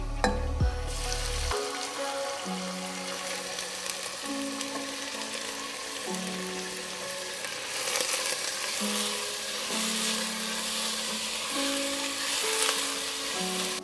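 Chopped onions fry with ginger, garlic and green chili in a pan, giving a steady, soft sizzle that runs throughout beneath a faint tonal background.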